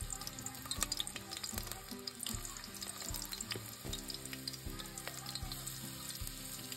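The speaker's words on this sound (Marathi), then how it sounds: "तेल गरम झालं, त्याच्यात कांदो," Chopped onion sizzles steadily in hot oil in a village kitchen in Konkan, a constant close crackle and hiss with occasional stirring knocks, and almost no voices.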